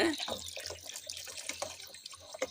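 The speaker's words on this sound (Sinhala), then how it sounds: "දැන් මේක තැම්බෙන ප්‍රමාණයට වතුර දාන්න ඕන" Water runs and splashes steadily into a pot of chicken mixed rice, with a clattering pour and scattered drips throughout; no one speaks.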